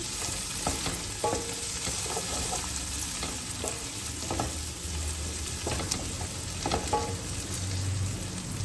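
Whole garlic cloves frying with browned onions for a mutton karahi, a continuous close sizzle with intermittent scraping and stirring of the spoon in the pan.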